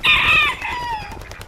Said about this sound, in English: that chicken loves you